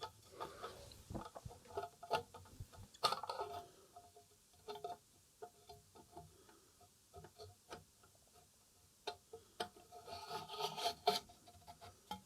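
A stereo decoder casing for an SABA E16 FM tube radio being fitted over its PC board, giving quiet scraping, rubbing and light clicking knocks that come in uneven bursts, with no one speaking.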